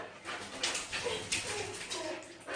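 A Samoyed-Malamute dog whines faintly during brushing, soft high whimpers coming in short repeated bursts over quiet background noise.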